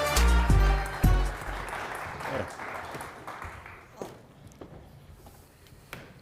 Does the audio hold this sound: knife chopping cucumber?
no